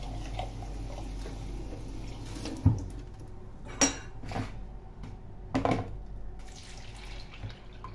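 Water is poured over leftover breakfast tea in a cup or pot, heard as a soft splashing trickle with a few sharp clinks of dishes, quiet and close with no talk.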